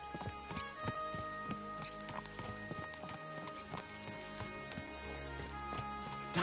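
Horses gallop in Kingdom Come: Deliverance 2, with steady, close, loud clip-clop hoofbeats running continuously over a busy game soundscape, plus a brief whinny.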